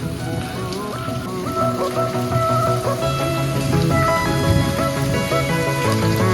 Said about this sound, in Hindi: ये देख tip tip tip tip tip tip बरसे पानी।